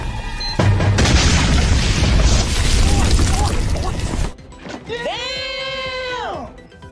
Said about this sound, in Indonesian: Fang meniup trompet sebagai petanda bot akan meledakkan gerbang Syama